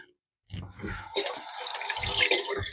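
Kitchen tap water running onto hands to wet them before kneading sourdough bread dough, a steady close splashing stream that starts after a brief silence and grows fuller, with no talk over it.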